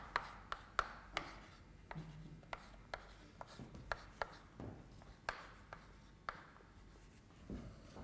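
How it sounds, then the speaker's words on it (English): Chalk or marker taps and scratches against a board while a lecture equation is written out, giving sharp irregular strokes with quiet scraping between them, close and unaccompanied by talk. "let me write this"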